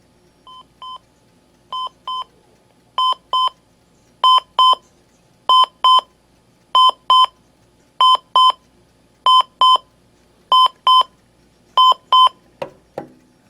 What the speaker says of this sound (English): So it sort of ramps up the alarm like that